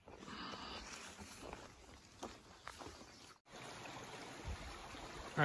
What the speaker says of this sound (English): would you come up along this brook?